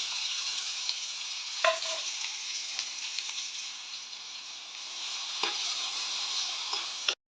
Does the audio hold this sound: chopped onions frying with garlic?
yes